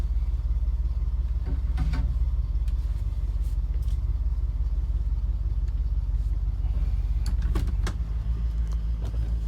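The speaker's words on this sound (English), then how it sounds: "fires right up. You can hear it running." A 1979 Ford Bronco engine idles with a steady low rumble throughout, with a few light clicks and rattles nearby and no talk.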